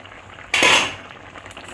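Bottle gourd is stirred in a pot for a Bengali prawn curry, giving one short, clattering scrape of a spoon against metal amid a quiet background.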